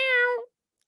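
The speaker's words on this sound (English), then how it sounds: "It's that goddamn cat again." A cat gives one short, clear meow close by, lasting about half a second and followed by silence.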